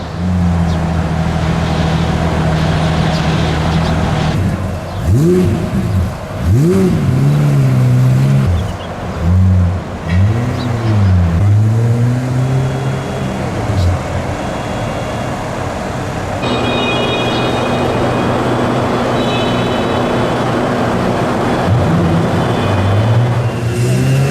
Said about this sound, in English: the last thing I thought I'd be doing is driving up a ramp at Dubai Airport